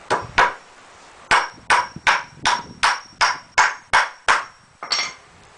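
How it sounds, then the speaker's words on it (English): Nails are driven into a pallet-wood grill table with a hammer: a near series of about a dozen sharp, evenly spaced blows, loud and alone. "We can put a couple more nails in it."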